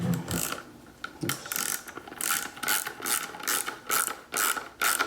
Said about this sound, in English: Next step is to take your 7mm torque wrench and just tighten it up.